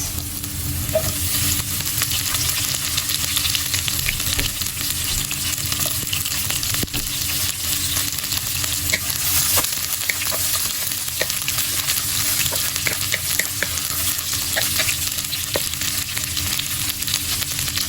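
Lemongrass frying in a hot pan, giving an even, dense crackling sizzle that holds steady and close for the whole stretch, with faint clicks of stirring and no talking.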